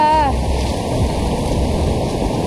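Strong ocean waves at a beach, a loud continuous roar of surf mixed with heavy wind buffeting the microphone, with a brief voice at the very start.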